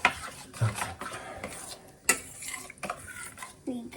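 A ladle stirs hot saaru in a pot, giving irregular metallic scrapes and clinks with short pauses, close and fairly soft, in a home kitchen.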